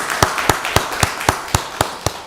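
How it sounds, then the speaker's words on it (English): Hand claps at a Rockdale County Board of Commissioners meeting, a short run of about eight evenly spaced, crisp claps close to the microphone over light room noise. "Let's give Director Kelly another round of applause"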